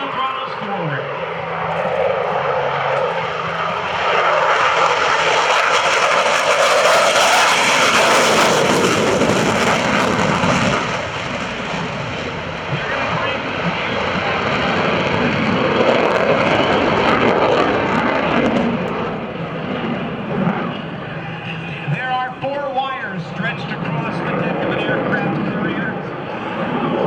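A US Navy F/A-18F Super Hornet's jet engines roar loud and sustained at an airshow, rising to full power during a go-around, with a commentator talking over the continuous broadband thrust.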